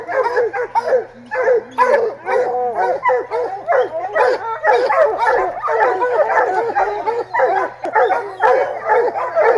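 Pack of bear hounds barking and baying nonstop at a black bear treed during a hunt, loud and close, with overlapping yelps and whimpers in a dense, rapid rhythm and a steady low hum underneath.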